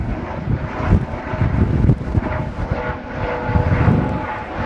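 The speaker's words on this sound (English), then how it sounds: "that helicopter's been there a long time" A helicopter hovers above Croft Circuit during a race weekend, giving a steady, fairly loud rotor and engine drone that rises and falls slightly throughout, with no talk over it.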